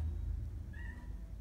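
A kitten gives a single short, faint meow midway through, over a steady low rumble, outdoors on a cold night before a snowstorm.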